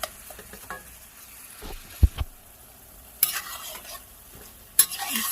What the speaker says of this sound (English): Vegetables are cooking up nicely.